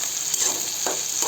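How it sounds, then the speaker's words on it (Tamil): Onions sizzle steadily in a hot pan of oil, with a few soft stirring scrapes through the constant close frying hiss in a village kitchen. "ஆனியனை இதில் போட்டு நல்லா வதக்கிக்கலாம்"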